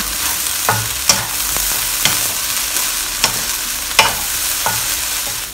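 A wok of chicken and salted fish fried rice with spring onions is stirred and tossed over the flame, giving a loud continuous sizzle broken by sharp scraping clanks of the spatula at irregular intervals.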